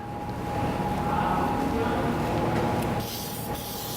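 Chemical Guys Black on Black spray misted onto a faded black car cowl, a continuous close hiss lasting a few seconds that tapers slightly near the end.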